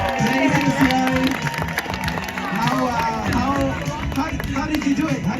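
Crowd at a summer festival burger eating contest applauds and cheers the winner, dense clapping and shouting over lively babble, with voices talking close by throughout.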